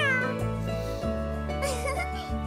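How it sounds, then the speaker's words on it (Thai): A cat meows in Doraemon Story of Seasons, a few drawn-out tonal cries one after another over a constant background music bed, clear and close. "ถ้าน้องแมวส่งเสียงร้องอย่างนี้แปลว่ามีอะไรอยู่ตรงนั้นนะ"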